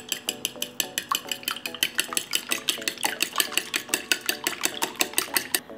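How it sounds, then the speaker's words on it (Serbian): Two eggs are whisked in a bowl, probably with a fork, as part of making breaded chicken drumsticks. Quick, regular clinking strokes tap the bowl about four times a second, crisp and close, with no talking. "Pa ih umutiti."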